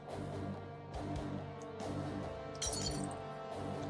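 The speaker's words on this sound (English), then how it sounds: "the sound of plates shattering took me out of my trance" Plates shattering in the visual novel game Dies Irae, a run of clinking, breaking crockery crashes with a sharper burst of shattering near the end, fairly close and alone.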